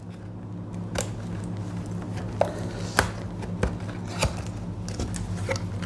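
Packaging on a coffee storage container being torn open up close, with sharp rips and crinkling bursts spaced irregularly over a faint background hum and no voices.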